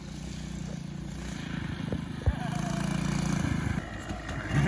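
A quad ATV engine drones and revs steadily in a low rumble while riders practice wheelies, close to the microphone and rising slightly near the end.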